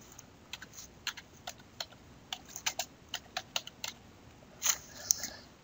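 Keystrokes on a computer keyboard tap out an entry in a quick, uneven run of about a dozen close, crisp clicks, ending with two louder, heavier key presses, with no talk.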